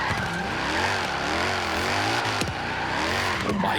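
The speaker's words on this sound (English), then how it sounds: "Screeching the tyres all the way through first and second." Tyres screech steadily on a drifting 1005 hp 6.5-litre V8 rear-wheel-drive Maserati Ghibli S in Forza Horizon 3, a loud, continuous squeal layered over the revving engine for the whole stretch.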